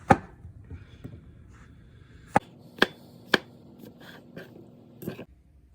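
Knife chopping mushrooms on a board for an omelette, a handful of sharp, separate cuts spaced irregularly, close and fairly quiet with no talk.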